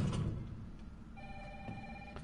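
Telephone ringing in the Resident Evil 3 Remake video game, a few electronic rings with a thud at the start, heard moderately loud in a quiet room.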